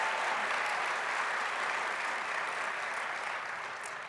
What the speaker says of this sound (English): So a round of applause for Rachel and Joe.